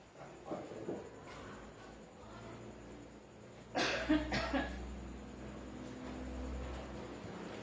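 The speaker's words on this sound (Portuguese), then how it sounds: "estou tendo um pouco de tosse" A short burst of two or three harsh coughs midway through, close to the listener, with a low steady hum and quiet room noise around them.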